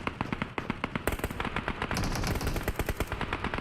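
Rapid automatic AK rifle fire in the battle royale game PUBG Mobile during a squad scrim, loud and close, with sustained bursts of sharp repeated shots over several seconds and overlapping distant gunfire.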